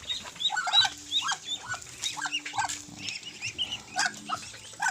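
A rowdy, playful dog at a rural farmhouse lets out short, repeated yelps and whiny calls that are fairly close, mixed with the clucking of nearby fowl.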